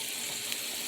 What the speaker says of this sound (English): we can see how these are starting to sizzle